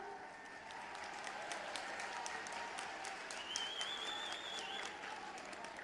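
Faint, distant applause from an audience at a rural mini-stadium foundation-stone ceremony in Sahjanwa, an even wash of clapping with a soft whistle-like tone drifting over it midway.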